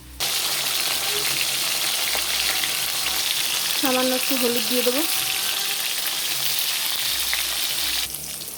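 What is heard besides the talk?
pointed gourd frying in hot oil in a wok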